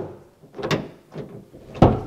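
A few close mechanical clunks and rattles of a Wheego car door latch unlocking, ending in a firm louder clack.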